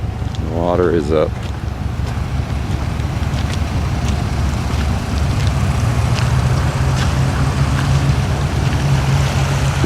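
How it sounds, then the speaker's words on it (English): The swollen Truckee River rushes in high flood flow outdoors, a steady broadband roar with wind buffeting the microphone, and a voice speaks briefly at the start. "This is the Truckee River. This is what does flood."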